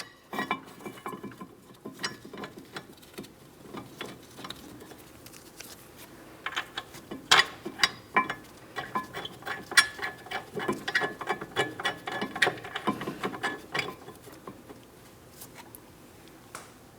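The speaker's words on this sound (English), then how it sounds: "Once you have them bolts started in, snug them up and then torque them to 133 foot-pounds." A ratchet wrench tightening the caliper bracket bolts on the front brakes of a 2004-2008 Pontiac Grand Prix, heard as close, rapid, uneven metallic clicking that speeds up and slows over the whole stretch.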